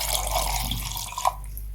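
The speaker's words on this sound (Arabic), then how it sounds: "راح نضيف عليها كوب ماء بارد" Cold water poured from a cup onto kiwi for juice makes a soft, brief trickle and splash ending in a couple of faint drips, quiet and close.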